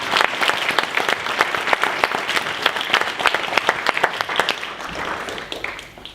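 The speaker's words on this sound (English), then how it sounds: "please do give her a round of applause" Sustained applause from an audience at a charity awards ceremony for a special recognition award, dense steady clapping that carries on for several seconds before tapering off at the end.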